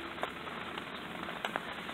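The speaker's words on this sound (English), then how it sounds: "It's raining, so I'm under an umbrella" Steady rain patters on an umbrella overhead outdoors, a close, even hiss broken by a few louder drops, with no voices.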